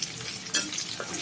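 Small fish sizzle and crackle steadily in hot oil while frying for ilish pulao, with brief stirring scrapes breaking through the close, continuous hiss.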